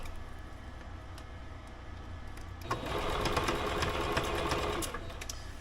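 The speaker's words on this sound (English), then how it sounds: "putting it under the presser foot, and we're just sewing at 5/8 of an inch" A sewing machine, the Know ME 2050, runs a 5/8 inch seam under the presser foot, starting after a quiet lead-in with a close, steady burst of about two seconds.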